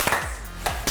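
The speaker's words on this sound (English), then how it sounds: "That was a terrible slow clap." Slow, spaced hand claps from a small group of people playing a board game at home, three sharp claps spread across under a second, fairly close.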